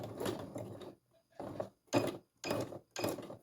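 A sewing machine backstitches a fabric strip onto a soft diaper, running in four short mechanical bursts separated by brief pauses, close and fairly loud with no speech.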